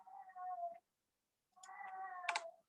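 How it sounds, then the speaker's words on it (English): A cat yowls somewhere in the background of a quiet room, giving two drawn-out, wavering meows separated by a short silence; the second call rises into a harsher, louder cry near its end. "I have a yowling cat in the background."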